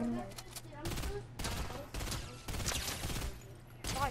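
Rapid bursts of FAMAS rifle fire in Fortnite Reload, several loud, close volleys separated by short pauses, with a player's voice mixed in.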